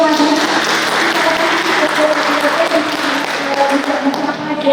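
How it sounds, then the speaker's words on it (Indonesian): Audience at a talk show forum clapping in a steady, fairly loud wash of applause, with voices audible under it. "Tepuk tangan dulu"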